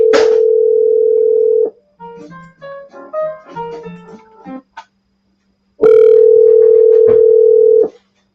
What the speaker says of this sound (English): let's give him a buzz and see if he answers the phone